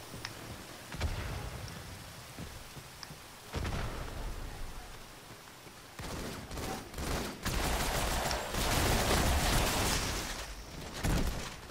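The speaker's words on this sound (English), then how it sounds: "They really know how to use that SMG." Submachine gun fire in Halo 2, a dense crackling barrage of automatic shots that grows louder and more continuous in the second half, mixed with surrounding battle noise.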